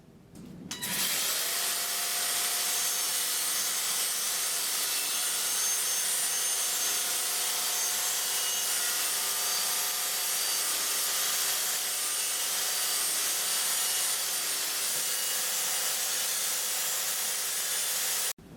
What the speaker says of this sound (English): now we've finished using our battery-powered Bristle Blaster